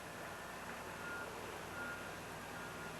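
A dump truck reverses at a heavy construction site alongside a backhoe. Its backup alarm sounds in evenly spaced, faint electronic beeps over a low background of machinery noise, with no talk.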